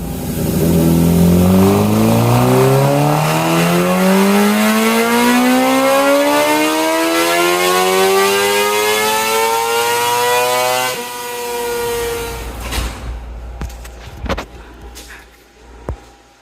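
A 2023 Suzuki GSX-R 600 running on E85 screams through a full-throttle dyno pull, its pitch climbing steadily for about eleven seconds before it cuts off. Engine blips and mechanical clatter follow.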